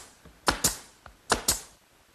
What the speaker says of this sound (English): I can fasten them in place using my brad nailer